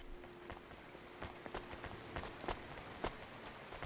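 Rain falling in the Cloudpunk video game, a quiet, steady patter with scattered distinct drops striking a surface, with no voices.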